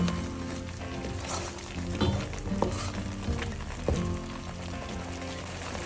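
A Goan prawn curry base fries in a pan over medium heat with a steady sizzle, while a spoon scrapes and stirs through it in uneven strokes and lands a few louder knocks against the pan.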